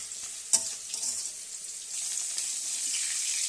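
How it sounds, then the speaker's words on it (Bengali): Rohu fish fry in a pan of oil with a steady, bright hiss that builds slightly toward the end, and a single sharp tap near the start. "দেখো রুই মাছগুলো ভাজা হয়ে গেছে"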